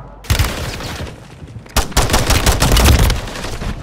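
Pistol gunfire in a Call of Duty Warzone Rebirth solos match: a burst of shots near 0.3 s, then a rapid run of loud, close shots from about 1.7 s to the end, with no talk.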